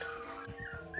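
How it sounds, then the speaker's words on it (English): Newborn puppies out of their whelping box whine and whimper, faint high thin cries rising and falling in short bursts, close by with no talking. "all the puppies get out of the box and then they whine"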